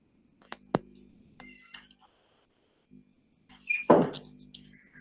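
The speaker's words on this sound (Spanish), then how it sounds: "mi gata, Josefina, quiere que le abra la puerta y tengo que hacerlo." A door opened to let a cat through, with a few light clicks and knocks of the latch and frame in a quiet room, then a louder rattling swing of the door near the end.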